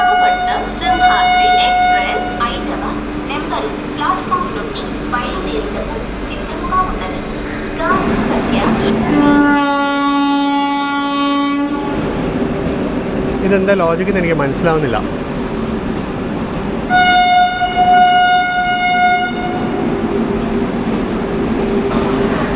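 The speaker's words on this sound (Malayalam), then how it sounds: "വണ്ടി പുറപ്പെട്ടു." The 17206 Kakinada Port–Sainagar Shirdi Express pulls away, its rolling wagons rumbling loudly up close with high metallic wheel squeals and sustained horn-like tones, while someone talks over the rail noise.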